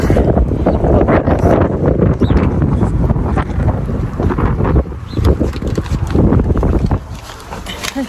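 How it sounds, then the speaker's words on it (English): Strong wind outdoors blasting across the microphone, loud continuous buffeting and rumble that barely lets up over several seconds. "It's windy."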